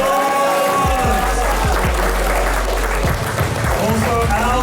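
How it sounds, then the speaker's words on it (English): Applause from a comedy roast battle audience rises under loud music with booming bass hits and a voice, the clapping dense but partly masked by the thumping beat throughout. "Give them a big round of applause."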